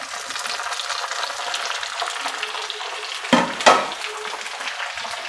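Chopped onions and tomatoes fry in a pan for paniyaram chutney, a steady close sizzle throughout with two brief louder stirring scrapes near the middle.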